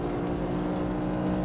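Race car engine screaming at high revs on a track, shifting into fifth gear and accelerating flat out, a dense, loud, continuous roar close up with no talk.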